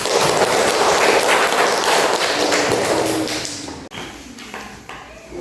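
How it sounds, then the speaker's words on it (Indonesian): Students in a classroom clap for a presenting group, a dense burst of applause that fades out toward the end. "Ya anak-anak, beri aplaus kepada kelompok 3."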